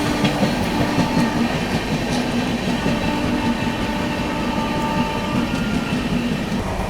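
The New Delhi Howrah Rajdhani Express running through Kota Junction at speed, a loud continuous rumble of wheels on rails with rhythmic clickety-clack and faint squeal, no voices.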